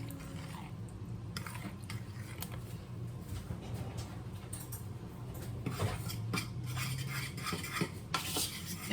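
Sweet potato muffin ingredients being mixed in a bowl, a continuous scraping and clinking of a utensil against the dish, close and moderately quiet.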